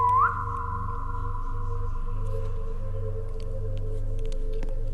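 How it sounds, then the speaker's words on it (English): A whistle in the video game Infinite IKEA (SCP-3008): a single rising then steady whistled tone held for several seconds over a low electronic hum of game ambience. "What if I whistle?"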